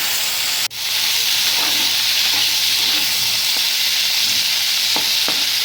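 Flat beans and potatoes frying in mustard oil in a wok with turmeric and salt, a continuous loud sizzle with a sharp clatter near the start and faint stirring knocks later.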